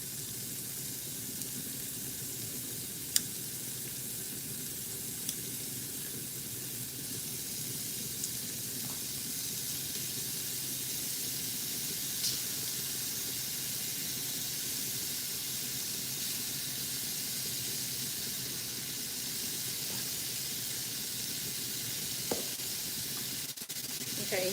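Strips of pepper steak sizzle steadily and quietly in a hot pan, a soft continuous hiss with a few faint clicks and taps over it.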